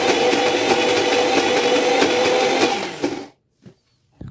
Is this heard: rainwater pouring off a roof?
no